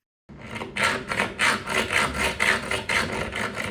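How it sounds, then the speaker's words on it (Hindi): Hand saw cutting through a glued-in screw, steady back-and-forth rasping strokes at an even rhythm, close and fairly loud, about six strokes with no talking. "उसके लिए मैंने आरी ले ली और लग गई अपने काम पर।"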